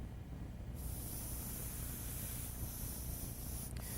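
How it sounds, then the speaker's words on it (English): An airbrush sprays paint in a steady, close hiss with a thin, high spray edge that sets in early and keeps going unbroken. "by spraying a little color over top of them"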